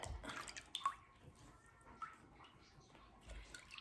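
Water dripping and splashing into a bucket while an arm is washed for wudu, a few faint, scattered drips and trickles close by in a quiet room.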